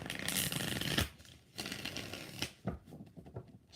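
Tarot cards riffled and shuffled by hand in bursts of crisp, papery flutters, a long run followed by a pause and then shorter shuffles, close and fairly loud with no talking.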